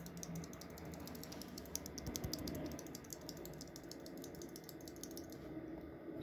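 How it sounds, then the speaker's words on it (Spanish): Gateron optical white keyboard switches pressed one after another in a rapid run of light, crisp clicks, close and clear over a quiet background, with no voices. "preferí comprarme aparte estos switches blancos, como noten que se baja y nada más es una test de sonido"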